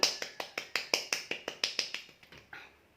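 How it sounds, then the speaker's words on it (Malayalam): One person claps alone indoors, about fourteen crisp, evenly spaced claps at a brisk, steady tempo that soften and trail off at the end. "അതാണ് ഞാൻ ഒറ്റയ്ക്ക് കൈയടിച്ചത്"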